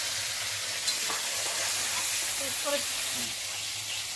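Goat fat frying in oil for a mutton charbi dish gives off a steady, soft sizzle and hiss throughout, with faint voices and a few clinks in the background.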